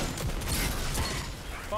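Gunfire in a competitive first-person shooter match, a dense burst of rapid shots lasting nearly two seconds, loud and close, with game sounds layered over it.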